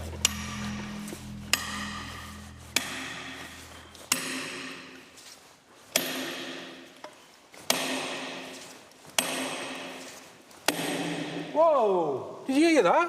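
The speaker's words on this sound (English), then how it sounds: "He's going to hammer them down to try and force the slate to fracture." Repeated sharp metallic strikes of a hammer driving plugs and feathers into holes in slate, spaced about a second or so apart, each ringing briefly; a low engine-like hum underneath early on and a squeaky tonal sound near the end.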